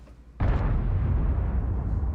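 A sudden loud boom from an artillery shell in World of Tanks bursts in and rolls on as a heavy rumbling blast that lingers without fading, with no voices present.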